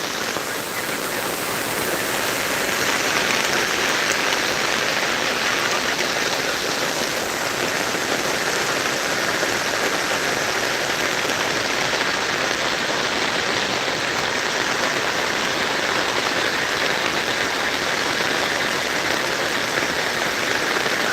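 Heavy rain pouring steadily on a curving road, a dense, unbroken hiss that stays loud and even throughout with no voices.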